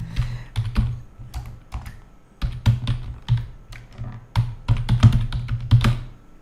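Name and email being typed on a computer keyboard, with quick bursts of close, clicky keystrokes broken by short pauses.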